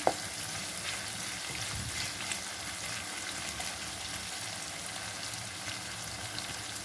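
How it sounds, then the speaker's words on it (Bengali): Chopped onion sizzles in hot oil with cumin over a gas flame turned up higher, a steady, even crackle that holds at moderate loudness throughout with no talking. "পেঁয়াজ কুচিটা ভালো করে ভাজা হওয়ার জন্য।"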